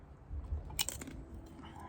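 Crunchy squid, marinated in vinegar, being chewed at a camping meal: a few close, brittle crunching bites followed by softer chewing, quiet and without speech.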